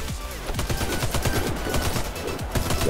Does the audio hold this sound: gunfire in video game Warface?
yes